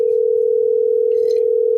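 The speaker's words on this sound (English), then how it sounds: "Should y'all be hearing this? The phone ringing." A telephone sounds during a live morning broadcast show as one loud, steady electronic tone that holds unbroken and then cuts off abruptly.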